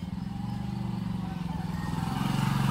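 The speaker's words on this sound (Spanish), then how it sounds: "Ahí viene una moto, hagámonos a un lado." Motorcycle approaching on a road, its pulsing, buzzing engine growing steadily louder and nearer, with faint voices in the background.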